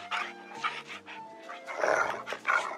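Dogs at a dog show giving a series of short barks and yips mixed with whimpering, close and fairly loud, with several quick bursts over a few seconds.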